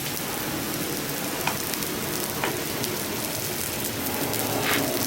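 A shallot sizzles in a pan over a camp stove outdoors, a steady hiss with soft crackles and a few small pops, close and continuous, with no talking.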